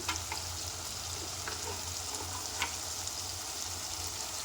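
Tomatoes and chilli powder for a radish curry cook in a pan, producing a soft, continuous frying sizzle with a few faint clicks.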